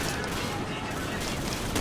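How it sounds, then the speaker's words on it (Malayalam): Rapid gunfire from the video game Call of Duty 4: Modern Warfare crackles in bursts, with voices talking over it. "നമ്മുടെ എനിമീസൊക്കെ അവിടെ വെച്ചിട്ട് ഭയങ്കര വെടിയാണ്"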